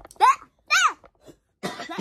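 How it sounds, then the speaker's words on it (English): Two sharp, close coughs from a young person come in quick succession, followed by a short pause and then a burst of voice or further throat noise near the microphone. "I'm gonna do a coughing spell."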